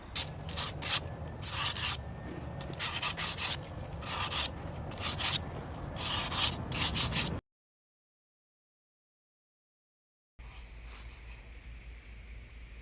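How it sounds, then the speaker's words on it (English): Hand sanding on a Halloween outdoor planter gives close, steady rasping strokes in a rhythmic back-and-forth, broken by a silent gap before the scraping resumes. "I'm just doing another sanding to bring out the high spots, some dimension"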